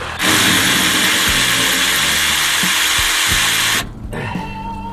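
A loud, steady whine of a power tool removing old exhaust bolts on an antique motorhome runs for nearly four seconds, then cuts off, leaving lower mechanical clatter and rattling.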